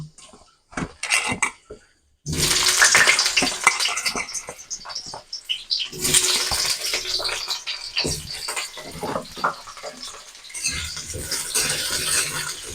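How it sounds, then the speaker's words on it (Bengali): Potatoes fry in hot oil in a kadai for a vegetarian mung and potol curry, a loud, steady crackling sizzle that bursts in after a few light clatters and carries on close by. "এবার আমি এর মধ্যে আলুগুলোকে ভেজে নেব"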